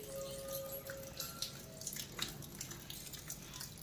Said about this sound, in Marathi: बघा, तुम्हाला पाण्याचा आवाज येत असेल